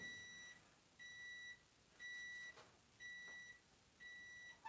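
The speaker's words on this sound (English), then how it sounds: "That's the timer." A kitchen timer beeps in five even, two-tone bursts about once a second, clear and fairly close against a quiet room with no talking.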